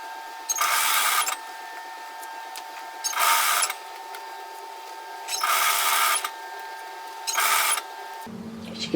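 A sewing machine stitching an apron waistband seam runs in four short, even bursts of rapid mechanical whirring, with quieter pauses between each run and a brief clunk at the end.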